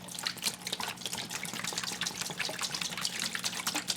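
A gallon of distilled water pours steadily and continuously close by, a broad splashing trickle with small drip-like bursts throughout and no voices.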